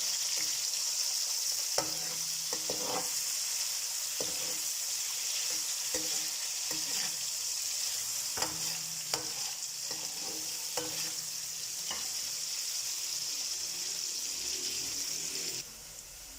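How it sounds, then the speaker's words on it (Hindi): Chopped onions sizzle steadily in hot oil in a pan while being fried golden for kadhi pakora, with a constant close frying hiss broken by regular scraping knocks of a spoon stirring them. "यहाँ पे प्याज को थोड़ा सा सुनहरा कर लेंगे।"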